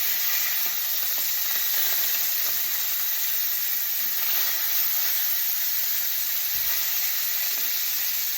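Pork chops frying in a pan, a loud, dense and continuous hissing sizzle heard up close, steady throughout with no talk.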